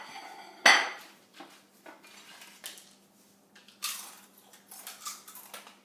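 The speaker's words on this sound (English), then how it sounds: "take your spoon and just dump it into a bowl to serve" A spoon scoops guacamole into a serving bowl, one sharp clank against the dish followed by several softer scrapes and taps, close and alone.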